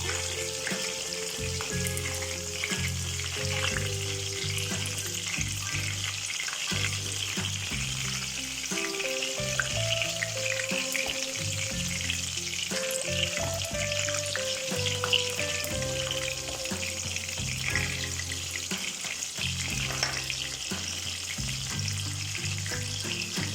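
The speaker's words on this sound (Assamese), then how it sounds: "এইদৰে মই গোটেইখিনি মই ভাজি ল'ম" Small pieces of chicken frying for restaurant-style dry chilli chicken give a loud, continuous, close sizzle with bubbling oil, rhythmic clatter and scraping of turning and stirring throughout.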